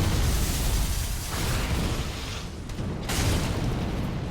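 Fire orb spell striking a crystal lizard in Dark Souls 3, a loud booming burst that rolls across the whole span with a second heavy impact near the end, no voices.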